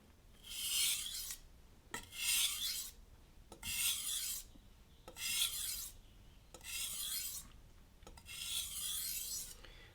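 A knife is sharpened on a whetstone in six even, rhythmic rasping strokes about every 1.5 seconds, each a bright, gritty scrape with short pauses between, close and clear with no talk.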